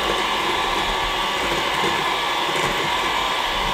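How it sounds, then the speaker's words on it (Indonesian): An electric hand mixer runs at low speed beating cake batter for a marble sponge cake, giving a steady, continuous whirring hum close by with no talk over it. "Untuk pengocokan, pertama-tama kita gunakan speed yang rendah dulu."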